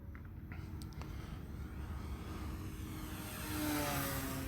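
An RC P-51 Mustang model plane on a timed flight, its motor a steady airborne drone that swells louder toward the end as it passes closer overhead.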